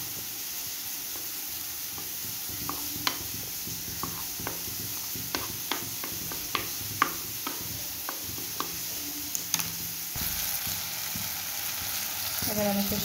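Spice masala with mustard paste fries in a pan for a bhola fish curry, a steady low sizzle with sparse light clicks and taps of stirring, close and undisturbed by talk.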